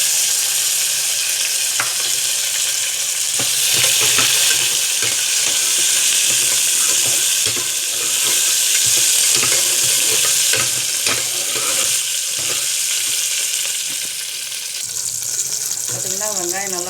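Onions and green chillies fry in a pan for a vegetable biryani, a steady close sizzle broken by scattered clinks and stirring scrapes, with a brief watery rush near the end.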